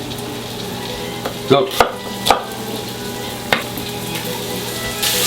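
Grey French shallots sizzling in butter in a pan, a soft steady fry broken by several sharp clinks and scrapes of a spatula, with a brief spoken word.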